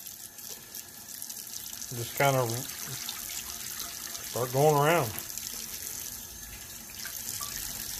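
Hot water running into a cast iron dutch oven for cleaning, a continuous splashing pour under a voice talking twice.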